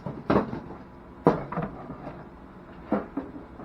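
The small metal lift door on an exterior electrical panel box, heard as a few sharp clanks and rattles spaced a second or so apart, close up and fairly clear.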